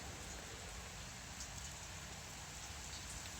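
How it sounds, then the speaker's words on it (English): Rain falls steadily on a backyard, an even, soft hiss of drops pattering on surfaces from start to end, with no voices. "I do love the sound of the rain."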